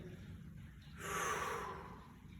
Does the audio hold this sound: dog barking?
no